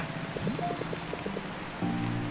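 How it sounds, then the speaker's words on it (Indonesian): Rain falling in the game Until Then, a soft steady hiss of drops with faint tonal music-like notes threaded through it, fairly close and continuous for a couple of seconds. "Iya, ini hujan."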